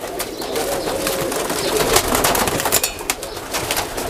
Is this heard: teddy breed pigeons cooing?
yes